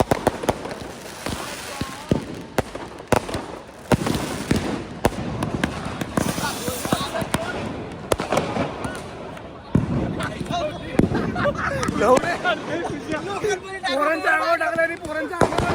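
Firecrackers and bombs set off during festive celebrations with friends, repeated sharp bangs and crackles of varied loudness, some near and some farther off, over a constant murmur of voices and crowd noise.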